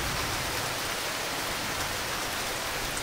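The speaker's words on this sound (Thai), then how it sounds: "ฝนตกหนักเลยค่ะ เย็นสบายมาก" Heavy rain pours steadily on a surface outdoors, a dense, continuous hiss of drops with no break or other sound over it.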